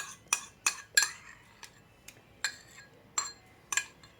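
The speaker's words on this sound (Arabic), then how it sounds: "وغادي نصبو الكل في الصحن ونخلطو." A utensil clinks sharply against a plate while rice salad is tossed and mixed, with about ten separate bright taps at uneven intervals, close and quiet with no talk.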